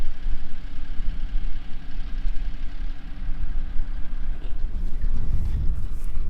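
A tractor engine runs steadily out in a field, a low continuous rumble throughout that swells somewhat louder near the end, with no talking.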